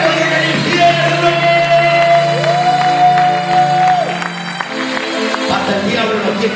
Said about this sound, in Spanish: Aplauda, aplauda fuerte los que son conocidos en el cielo y en el infierno.